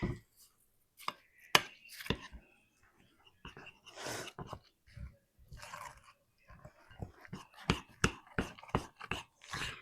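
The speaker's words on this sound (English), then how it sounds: "let's give all that a good mix" Chili cheese dog casserole ingredients being mixed in a bowl, bursts of thick wet scraping and sharp utensil knocks coming in irregular clusters, close and fairly quiet, with brief silences between.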